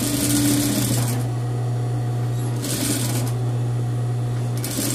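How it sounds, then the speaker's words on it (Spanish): A sewing machine runs steadily with a motor hum and rapid needle chatter while topstitching seams down toward bias tape on a short jumpsuit. The stitching carries on continuously at close range, with no talking. "voy a poner una puntada de asentar, recargando todas las costuras hacia la cinta bies"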